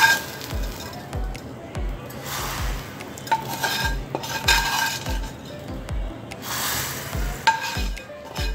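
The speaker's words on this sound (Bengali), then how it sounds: "এখন আমি এই দুধের মধ্যে এই সেমাইটা দিয়ে দিব।" Vermicelli (shemai) goes into milk in a pot and is stirred, with repeated spoon clinks and scrapes against the pot over a soft bubbling sizzle, close by and without talk.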